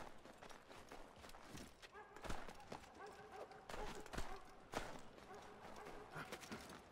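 A horse gallops in Assassin's Creed 3, with rhythmic hoof clops and thuds at moderate level, uneven bursts of impacts over a game soundscape.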